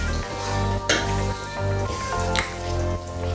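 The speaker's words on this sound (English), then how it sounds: "I'm gonna give it a good stir and let it simmer for about 3 minutes." Ayamase stew with shaki and beef being stirred as it simmers in the pot, a steady close sizzle and bubbling broken by two short louder scraping stirs.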